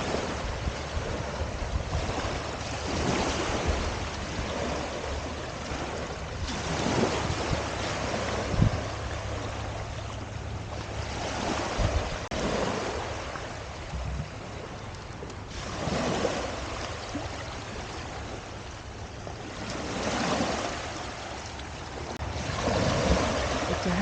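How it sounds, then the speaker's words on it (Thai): Strong ocean waves surge and break along the shore at Carkeek Park in Seattle, a rolling wash of surf rising and falling in slow swells, with wind buffeting the microphone and no talk. "นี่คลื่นแรงมาก"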